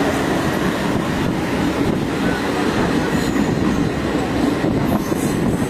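A train crossing the Farakka Barrage, heard from on board as a loud, continuous rumble of wheels and carriages with faint rail clatter throughout.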